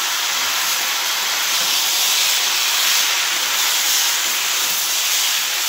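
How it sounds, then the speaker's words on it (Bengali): Kashmiri chili powder and cumin powder sizzling as a spice masala is sautéed in a pan for an amudi fish and vegetable curry, a steady, close, continuous hiss with no talk. "মশলাটা আমি এবার কষিয়ে নিচ্ছি।"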